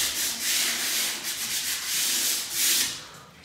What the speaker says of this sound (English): So basically I'm going to start rub all the frames down